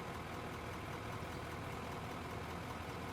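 The mining vehicle engine in the Out Of Ore video game idles with a constant rumbling hum that holds level the whole time, close and uninterrupted, with no talking.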